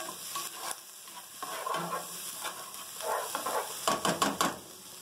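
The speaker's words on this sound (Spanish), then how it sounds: "Agregamos la cebolla y sofreímos durante 2 minutos" Onion and bell pepper sauté in a pan with a steady close sizzle, broken by several scraping stirs of a utensil against the pan, with no talk over it.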